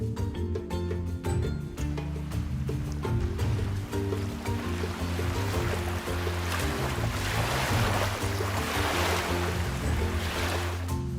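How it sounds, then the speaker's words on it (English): Whitewater river rapids at Jinja, Uganda rush in a loud, continuous broadband roar that builds in intensity, with a low rumble running beneath the churning water. "At Jinja, known as the adventure capital of East Africa, the river provides world-class whitewater rafting."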